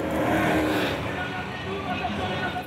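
NASCAR Whelen Euro Series stock cars roar past at Tours Speedway in a loud, steady wash of engine noise, with a commentator talking over the racing.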